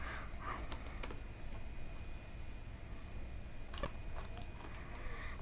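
Faint, scattered keystrokes on a computer keyboard come in a few separate clicks with pauses between them, over quiet room hiss and with no talking.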